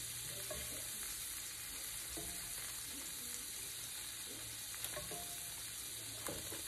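Shrimp fry in a pan for Cajun jambalaya pasta with a constant bright sizzling hiss and occasional stirring clicks, close and steady throughout, with no talking.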